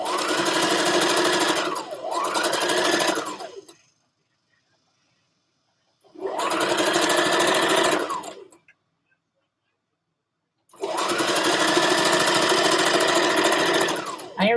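A sewing machine stitches the long side of a dress band in three sustained, steady bursts of whirring needle action separated by quiet pauses, loud and close.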